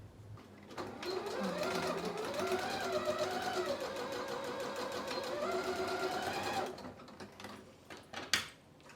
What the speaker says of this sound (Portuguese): eu vou passar uma costura aqui, ó, unindo esses tecidos